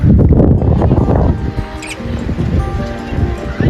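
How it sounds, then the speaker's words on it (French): Steady patter of rain in Korea, with broadband noise throughout, fairly loud and close, with faint background voices. "Il se met vraiment à pleuvoir."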